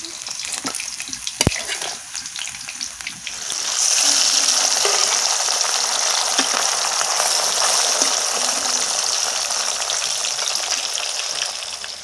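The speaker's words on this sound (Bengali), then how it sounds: "বাকি মাছগুলো ভাজা হয়ে গেছে, এবার তুলে নেব।" Fish fries in hot oil in a pan, a close, steady sizzle that swells after a few seconds and continues loudly, with a few light clinks and stirring sounds early on.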